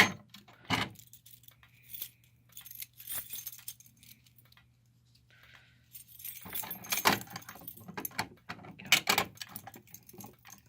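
A key worked in a fire alarm pull station that takes a standard Notifier key: close, quiet metallic jangling and clicking in scattered bursts, sparse at first and busier toward the end, with a low steady hum underneath.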